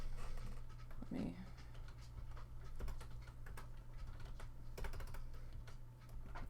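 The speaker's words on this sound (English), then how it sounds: "Oh, I can't type with these things on my fingers." Fingers wearing needle-felting finger guards tap irregularly on a computer keyboard, producing close, soft clicks over a steady low hum, with a brief muffled sound near the start.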